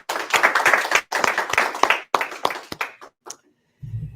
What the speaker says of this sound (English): And to me, that deserves some applause.